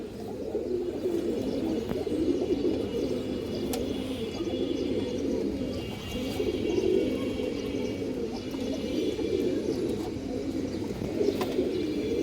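Pigeons, including a silver-light coloured bird of good breeding, coo steadily and close by, a continuous low murmur of calls with occasional higher chirps.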